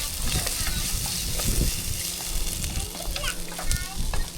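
Shallots, ginger, garlic, green chili and curry leaves sizzle and crackle in hot oil in a pan for a Kerala fish head curry, with a spoon scraping and stirring through the steady frying noise close by.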